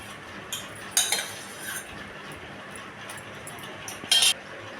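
Spoons and utensils clink sharply against a bowl while shrikhand is scooped into it, two or three bright metallic taps against a quiet room background.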